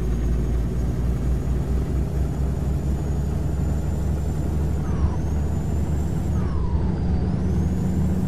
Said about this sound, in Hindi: इंजन का साउंड पूरा अलग है भाई।